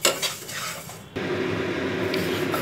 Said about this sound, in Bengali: তেল বা ঘি ছাড়াই ভাজছি, শুকনো খোলায় এটা ভাজছি।